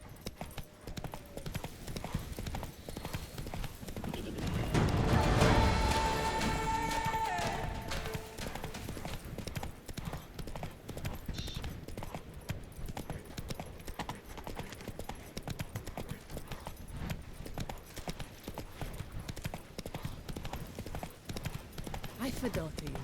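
Roach the horse in The Witcher 3 gallops with a rapid, steady clip-clop of hooves throughout. A brief whinny and a swell of rushing noise come early on, and voices talk over the hoofbeats.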